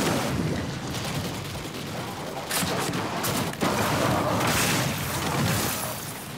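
Weapon blasts from the Dimensional Hypotrochoid in a video game make a dense, loud barrage of booming explosions and rapid gunfire, continuous and overlapping throughout.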